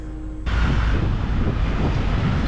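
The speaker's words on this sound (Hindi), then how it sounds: "बहुत तेज़ हवा चल रही है" Strong, cold wind blowing outdoors in London during the Chelsea Flower Show, a loud continuous roar buffeting the microphone that surges in abruptly after a short, quieter start.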